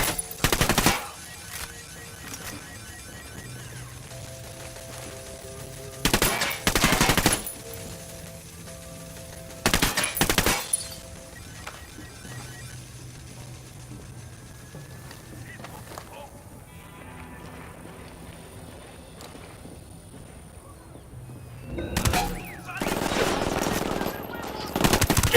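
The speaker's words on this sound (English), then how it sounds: "I'm shooting these fuckers." Automatic gunfire from the video game Ghost Recon Wildlands comes in several loud, rattling bursts separated by quieter stretches, with voices heard in the mix.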